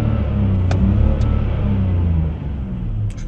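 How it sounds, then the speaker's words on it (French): A BMW 530i with a fault that holds it near 1500 rpm revs under acceleration, giving a loud, close, sustained engine drone with a steady rising rumble. "Regardez, si j'accélère, on va voir si ça le refait."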